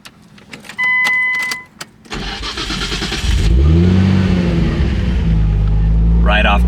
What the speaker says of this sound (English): Let's start the car up so you guys can hear it.